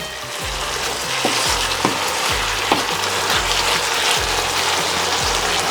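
Tomatoes for Turkish menemen cooking in a pan, a steady close sizzle and bubbling simmer with periodic stirring scrapes and low thumps, no talking.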